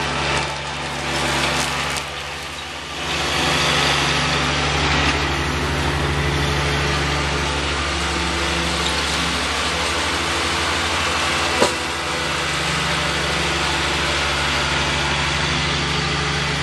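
A lawn mower engine runs with a steady, loud drone, broken by one brief sharp knock as it runs over a foam ball; no one speaks.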